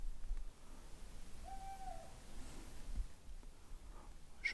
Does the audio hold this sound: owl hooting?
yes